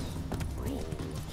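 Hooves of Roach, Geralt's horse in The Witcher 3, clip-clopping in a quick uneven rhythm close by, with a voice speaking over them.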